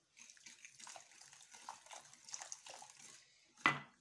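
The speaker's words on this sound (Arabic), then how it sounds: "غادي نبداو في اضافه ديال الماء" Water is poured into a semolina dough mixture for eggless, milk-free harcha, giving a faint splashing trickle close by. A sharper clink or splash comes near the end, with no talking.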